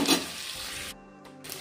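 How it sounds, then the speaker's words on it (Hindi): Onion and tomato fry in hot oil with cumin and dried chillies, a loud sizzle that dies away after a second, followed by a few faint scraping clinks. "आप देख सकते हैं प्याज और टमाटर मेरे बहुत अच्छे से भुना गए हैं।"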